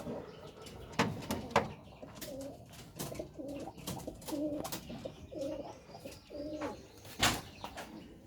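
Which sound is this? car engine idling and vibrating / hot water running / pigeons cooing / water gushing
pigeons cooing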